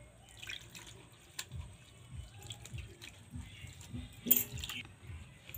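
Grated potatoes for potato pakoda being rinsed in water, with soft dripping, splashing and squishing of wet shreds close by, fairly quiet and irregular with a brief louder splash near the end.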